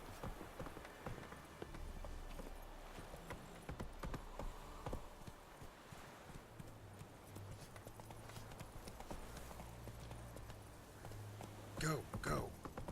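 Horse hooves clip-clop steadily in The Witcher III on Xbox One, with a continuous rhythmic trot under game ambience and bursts of talk, growing louder near the end.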